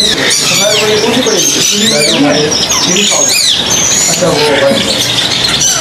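Finches at a bird market in Bahawalpur: a dense, loud chorus of high chirps and tweets runs throughout, with someone talking over it.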